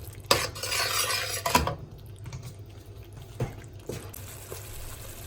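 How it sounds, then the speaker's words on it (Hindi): Spices going into urad dal tadka, with clinking metal and a spoon scraping a pot, a loud rattling burst early, then scattered softer taps and stirring scrapes close by. "चलिए अब इसमें बाकी के मसाले भी ऐड कर लेते हैं ताकि वो भी अच्छे से भून जाएं।"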